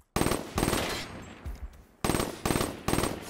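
Video game burst fire: several short, loud bursts of rapid automatic gunshots, close and punchy, with a brief gap in the middle holding faint clicks and thuds.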